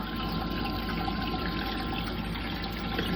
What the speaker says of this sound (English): So we got the pump working. It's pumping the water through.